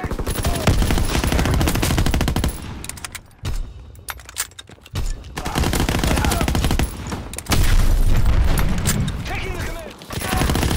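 Battle noise in the Call of Duty WWII video game on Xbox One, with dense bursts of rapid gunfire and blasts, loud and nearly continuous with a couple of brief lulls.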